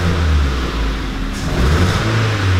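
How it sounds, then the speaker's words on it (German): A Ford Focus 1.4 16V engine misfires under revving at full throttle, its drone rising and falling unevenly with stumbling, ragged pulses, recorded up close with no talking. "Ja, wir haben richtige Fehlzündung auf jeden Fall."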